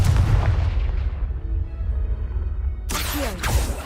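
A Confringo fire spell explodes in the Hogwarts Legacy video game, a single loud burst near the end following a long low rumbling tail from an earlier blast.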